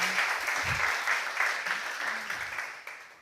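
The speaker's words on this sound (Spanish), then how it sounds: "otro aplauso para Chris, por favor." An audience at an innovation and design event applauds, with steady clapping that fills the room and gradually tapers off.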